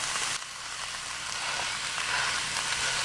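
Ground beef with peppers and onions fries in a hot pan, giving a steady, dense sizzle that holds loud and unbroken throughout with no talk.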